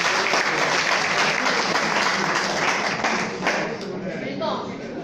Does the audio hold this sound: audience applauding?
yes